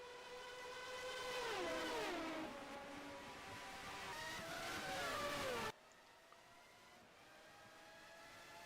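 Formula 1 cars from the 1990 season racing at Montreal in the rFactor sim, high-pitched engines screaming and shifting gears as they pass, one loud car sweeping by before cutting to a quieter, more distant engine drone.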